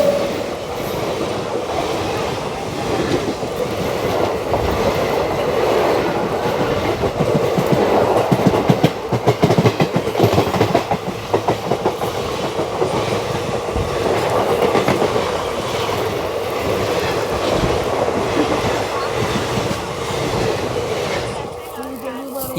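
The Simhadri Express running on rails near Nidadavolu junction gives a loud, continuous rumble with rhythmic clickety-clack from the wheels and occasional metallic squeals, heard close throughout.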